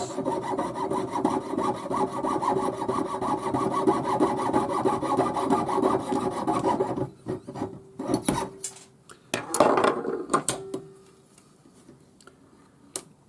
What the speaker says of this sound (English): by holding this in the vise, it really is easy to cut a perfect line across